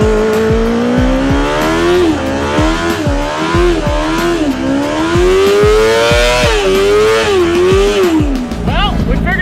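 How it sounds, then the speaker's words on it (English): A very small car with a swapped-in sport motorcycle engine and a drag slick on the back does a burnout: a loud, high-pitched engine revs hard in repeated rising and falling surges with quick shifts, and tire squeal rides underneath. "It does good burnouts"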